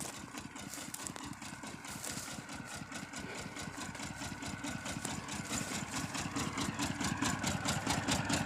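A tractor-drawn rice seeder's engine idles with a steady, fast chugging pulse, close and continuous, growing slightly louder toward the end.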